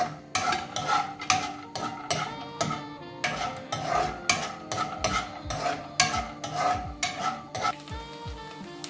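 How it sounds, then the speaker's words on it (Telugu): Peanuts frying in hot oil in a pan are tossed and stirred with a utensil, giving a rhythmic run of scraping, rattling strokes about every half second over a light sizzle. "నూనె వేడైంది, ఫస్ట్ పల్లీలను వేయించుకుందాం."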